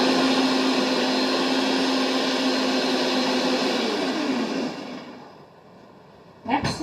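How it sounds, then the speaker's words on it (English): A kitchen blender purees homemade pesto sauce with a loud, steady whirring drone that runs for several seconds, then fades as the motor stops, followed by a brief clatter. "So once I just puree this, I'm going to check on the pasta."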